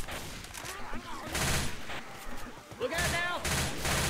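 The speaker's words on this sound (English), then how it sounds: "Stop shooting me." Bursts of rapid automatic gunfire from the video game Left 4 Dead 2 rattle in dense clusters, loud and close, while players shout over the shooting.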